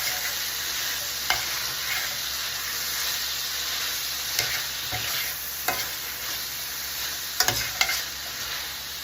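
Onions and apples stirred together in a frying pan, a constant loud sizzle and hiss broken by occasional scrapes and clinks of the utensil against the pan, close up with no speech.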